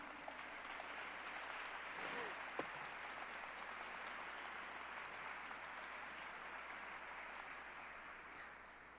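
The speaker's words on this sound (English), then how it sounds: "Thank you for your kind applause." An audience at a living history program applauds in a steady, even wash of clapping that stays faint and distant throughout, tapering slightly at the end.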